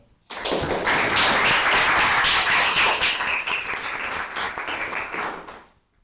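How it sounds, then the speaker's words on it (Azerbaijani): A classroom group claps for themselves after a geography lesson on social connections, producing dense, steady applause that starts abruptly, holds for about five seconds, then fades out. "Özümüzü bir daha alqışlayaq."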